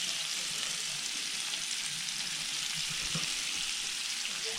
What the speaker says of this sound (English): Quails cooking on low temperature.